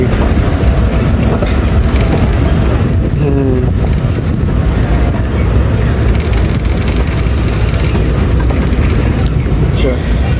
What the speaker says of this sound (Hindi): तो दोस्तों रायवंड जंक्शन पहुंच गई है ट्रेन हमारी